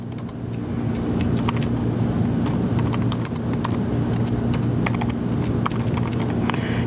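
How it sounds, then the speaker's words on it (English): Fingers type on a computer keyboard into a Word document, producing a scattered run of quick, crisp key clicks over a constant low electrical hum. "I can start typing."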